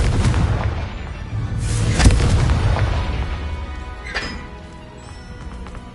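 Confringo fire spell explosion in the video game Hogwarts Legacy on PS5 Pro: a loud booming blast with crashing debris, then a fainter second impact and a fading rumble.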